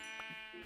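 A single short sheep bleat from the Minecraft video game, a brief nasal wavering cry heard alone and up close.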